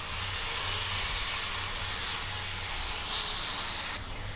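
Chicken sizzling in a pan with fried ginger and garlic, a steady loud hiss of frying close up that swells briefly before dropping off sharply, no voices.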